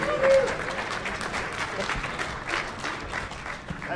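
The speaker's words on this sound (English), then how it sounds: "that's the only applause we're getting." Conference audience at a DEF CON hacking talk gives a brief burst of applause, a soft scattered clapping that stays moderate and fades over a few seconds with some murmur underneath.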